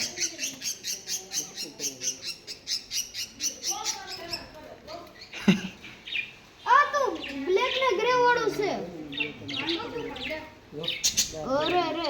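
Pet parrots give a run of sharp, rhythmic chirps and squawks close by, followed by busier overlapping calls, with people talking over them for much of the time.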